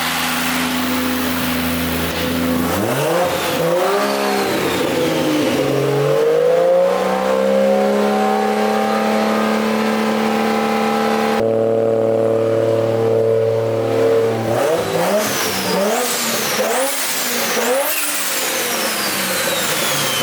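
A Nissan S13 fitted with a 1JZ engine runs loud and close, climbing through repeated revs with rising and falling pitch, a sustained held rev in the middle, then more sharp blips.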